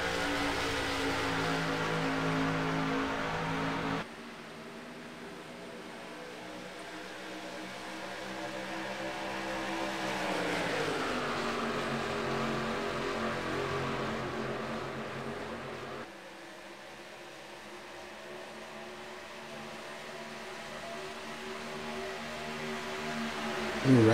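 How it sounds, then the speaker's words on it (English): Race cars running on an oval track at a Michigan race, a steady distant engine drone that swells and fades as the pack circles, with no talking. "We listen to the cars."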